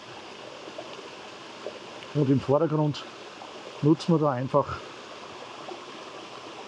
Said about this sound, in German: Im Hintergrund schön der große Wasserfall.